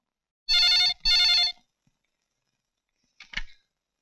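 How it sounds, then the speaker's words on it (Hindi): A telephone rings with two loud, close trill bursts in quick succession, followed by silence and a brief click as the handset is picked up. "अर्जुन सर, अर्जुन का फोन"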